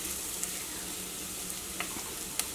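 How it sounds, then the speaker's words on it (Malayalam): Turmeric powder sizzling in oil in a clay pot for a fish curry: a steady, dense hiss of frying with a few faint clicks and scrapes of stirring, no voices. "ഈ മല്ലിപ്പൊടി ഇതിനകത്ത് കിടന്നിട്ട് നന്നായിട്ട് മുരിയണം"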